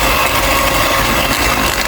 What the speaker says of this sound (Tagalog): gumamit na ako dito ng hand mixer para mas mapadali